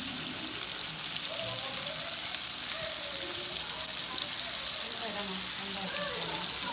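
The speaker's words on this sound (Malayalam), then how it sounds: "ജസ്റ്റ് നമ്മൾ മാരിനേറ്റ് ചെയ്ത് വെച്ചിരിക്കുന്ന ചൂര നമ്മളൊന്ന് ഫ്രൈ ചെയ്തെടുക്കണം" Marinated tuna shallow frying in a pan of oil for a Kerala-style tuna roast gives a steady, dense, continuous sizzle with no pauses or voices.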